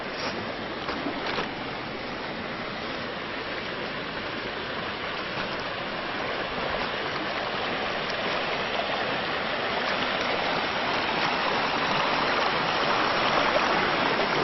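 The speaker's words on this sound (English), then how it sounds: "I'm going to go down here and show you the creek here." Creek water flows steadily outdoors as the creek begins to freeze at its edges, a continuous broad rushing that stays loud and even and swells slightly over time, with no voices.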